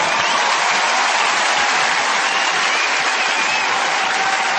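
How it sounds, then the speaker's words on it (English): Loud, dense applause from a comedy roast studio audience, continuous clapping at full strength from start to finish with a faint crowd murmur. "Give them all a round of applause."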